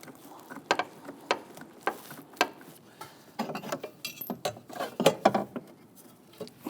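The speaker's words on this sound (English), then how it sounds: "I want to go ahead and get this bolt started on the driver's side." Metallic clicking and ratcheting from a bolt being threaded by hand into the driver's-side bracket of a Jeep Grand Cherokee 3.6L during oil filter housing work, irregular close taps and clicks with no talking.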